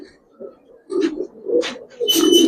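Giribaz pigeons coo in soft, low rolling calls, a few close murmurs rising and falling, with brief flutters or rustles between them.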